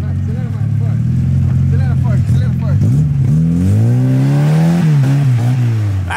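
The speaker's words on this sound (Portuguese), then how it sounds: "Acelera mais forte." A Chevrolet Chevette engine with a newly swapped carburetor part revs and accelerates loudly up close, its pitch climbing steadily, while people talk and shout over it.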